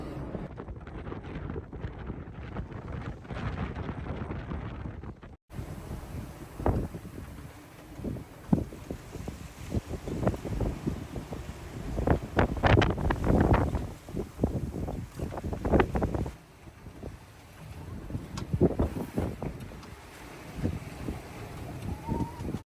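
A sailboat under sail in wind on a solo passage toward Greece: steady wind rush and hull noise, water sloshing and slapping against the boat in irregular bursts, with a louder gusty section at first.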